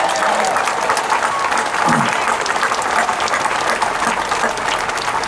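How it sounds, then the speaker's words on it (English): Dense, loud audience applause for Reverend Mark Creech fills the room, a continuous wash of many hands clapping at once. "Let's give my great friend, Reverend Mark Creech, a round of applause."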